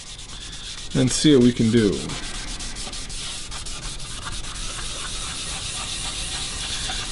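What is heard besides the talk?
sanding leather dye off guitar top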